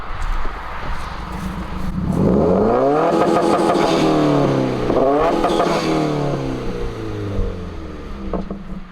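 A 2015-or-later Subaru WRX engine revs up and holds near 5000 rpm for launch control, its pitch climbing twice in rising sweeps and holding steady, loud and close, before it drops back.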